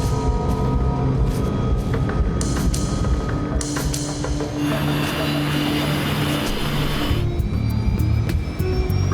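An airliner accelerates down the runway for takeoff, its jet engines giving a broad, sustained roar that swells and shifts in pitch over several seconds, with no voices over it.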